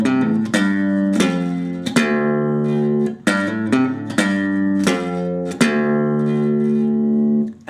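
Guitar plays a repeating blues riff, with sharp plucked attacks roughly every second and notes ringing between them, close and clear with no talking.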